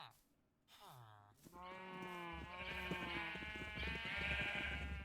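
Sheep bleating in a video game: a long, wavering, nasal bleat with another bleat layered over it, fairly clear and close, while a person talks alongside.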